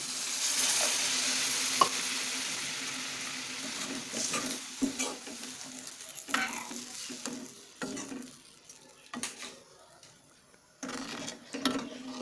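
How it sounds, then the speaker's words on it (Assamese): Moong dal with pointed gourd cooking in a pot, heard as steady stirring and a low sizzle with intermittent utensil scrapes and clinks against the pot, close and moderately loud throughout. "ইয়াতে মই আকৌ পানী এড কৰি দিম 1 মগ।"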